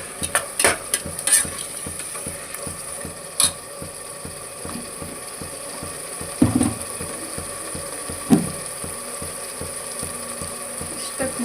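Methi pulao ingredients being stirred and roasted in a pan: steady rhythmic scraping and clinking with a soft frying sizzle underneath, close and fairly constant, with a few sharper knocks along the way.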